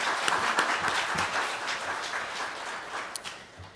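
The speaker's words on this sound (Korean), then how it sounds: "박수로 한번 환영하십시다" A Korean church congregation claps to welcome a visiting pastor candidate, a brief round of mid-level applause in a large room that gradually thins out after a few seconds.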